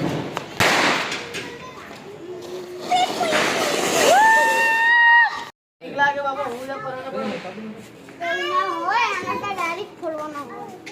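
Firecrackers burst during Dev Diwali night celebrations, a few sharp pops and thuds breaking out amid excited children's voices and chatter close by.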